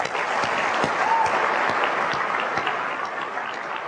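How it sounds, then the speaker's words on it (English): Keynote crowd at Macworld San Francisco 2002 gives sustained applause, a steady wash of many hands clapping at even volume throughout, with a few sharper claps standing out. "I would just like to give them a round of applause"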